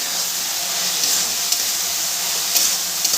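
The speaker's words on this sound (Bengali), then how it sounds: "এভাবে নেড়ে চেড়ে সবজিগুলোকে আমি ভালো করে ভেজে নেব।" Vegetables — chopped capsicum, onion and green chilli — fry in a pan while being stirred, giving a steady close sizzle and hiss with a few light scraping knocks, no voices.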